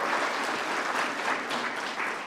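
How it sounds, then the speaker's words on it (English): Applause for a keynote speaker at a national research excellence awards ceremony, a dense continuous wash of many hands clapping in a large room, steady and then tapering slightly at the end. "Can we give him another round of applause?"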